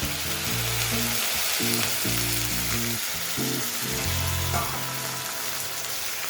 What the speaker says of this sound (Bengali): এবার আমি এর মধ্যে সামান্য পরিমাণ জল অ্যাড করে দিচ্ছি।